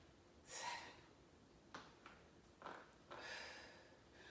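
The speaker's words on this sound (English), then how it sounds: "I'm breathing out with something called pursed lip breathing." Airy exhalations during a seated COPD strengthening exercise, several soft breathy bursts of pursed-lip breathing out, close and faint with no talking.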